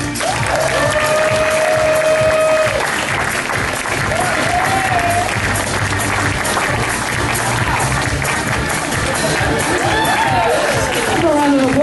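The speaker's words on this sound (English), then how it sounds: "Give a round of applause, ladies and gentlemen," Wedding reception crowd applauding and cheering as the wedding party is introduced, a continuous wash of clapping mixed with whoops and chatter, with music and voices running through it.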